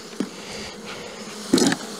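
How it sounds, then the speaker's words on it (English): Bees buzz around a hive in cold spring weather, a steady insect drone with two brief louder swells as bees fly close past, no voices. "Bees don't smoke down very good in the cold weather"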